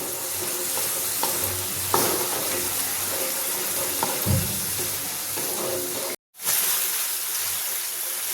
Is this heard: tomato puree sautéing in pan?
yes